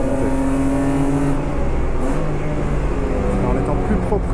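A Volkswagen Polo race car engine drones on the Dijon circuit, a steady revving note shifting pitch as it accelerates, with someone talking over it throughout.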